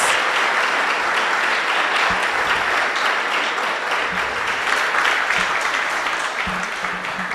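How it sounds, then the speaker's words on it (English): Dense applause from a crowd at a school science and technology competition closing ceremony, steady and loud throughout with no talking. "Give them a round of applause"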